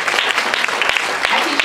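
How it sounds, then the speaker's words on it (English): An audience at a poetry reading applauds after a poem, dense loud clapping from a crowd filling the whole moment without a break. "I appreciate you guys clapping after poems"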